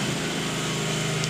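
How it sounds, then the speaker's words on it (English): A lawn mower drones steadily, a constant mid-distance engine hum with a buzzing tonal texture, alone with no talk. "Thanks, lawnmower guy."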